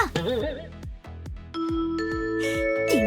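A bright ding-dong chime marks a correct answer during a children's electrical-safety musical quiz, with stepped ringing tones over a bouncy musical backing.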